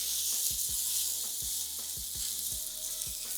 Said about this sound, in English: And now we're gonna add in our salmon. I'm gonna add it with the meat side down